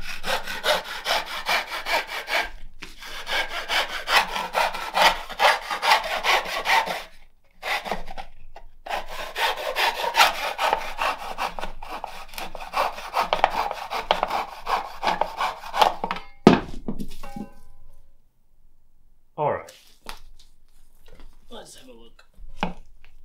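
Saw cutting through a green-wood bowl turned on a pole lathe, steady rhythmic rasping strokes close up for about sixteen seconds with brief pauses, then stopping as faint scraping and handling noises follow.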